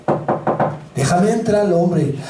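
Four firm knocks on a door in a quick even rhythm, close and loud, followed by someone talking.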